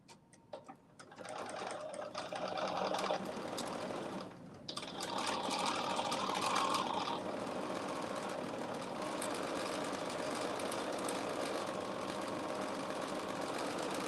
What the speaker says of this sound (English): I'm putting that stay stitch in my seam allowance